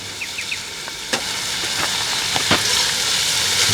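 Lamb's fry sizzling in a cast iron camp oven over an outdoor fire, giving a steady close hiss with a few faint clicks and pops and no talking.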